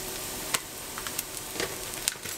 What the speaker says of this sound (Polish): Dodam się cebulka, troszeczkę podsmażę